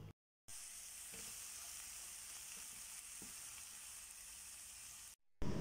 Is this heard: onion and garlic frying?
yes